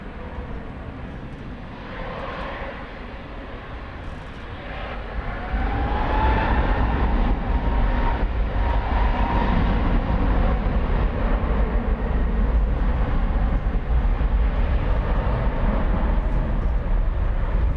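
A heavy jet airliner takes off from runway 18 left at DFW at night, its broad engine roar steady and building, growing louder about a third of the way in and holding strong to the end, with no talk over it.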